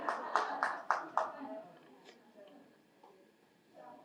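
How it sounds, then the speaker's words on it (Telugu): An audience at a public event in Puttaparthi claps together in four loud, evenly spaced, synchronized beats, then scattered softer claps fade out as a voice speaks faintly. "గట్టిగా చప్పలు కొడదామండి"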